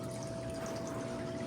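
A koi pond filter pumps water in a steady, close rushing flow, with a faint constant pump hum running beneath the splash.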